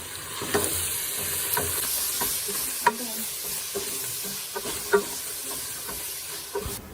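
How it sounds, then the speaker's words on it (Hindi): Tomato and garlic fry in a spiced masala for biryani, giving a steady close sizzle with scattered clicks and scrapes of stirring throughout. "मैंने इसके अंदर टमाटर लहसुन अब डाला है। अब इनकी अच्छी तरह से भुनाई करेंगे।"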